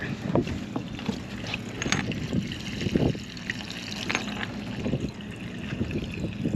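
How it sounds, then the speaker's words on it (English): Water runs steadily into a sailboat's tank from a hose on deck, a continuous close gushing wash with faint wind and occasional knocks around it. "Let's fill the tank"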